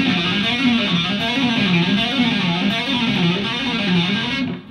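Distorted electric guitar playing a continuous legato run in which even the first note is sounded without a pick, sustained, loud and unbroken with a wavering melodic line throughout and a sudden stop at the end.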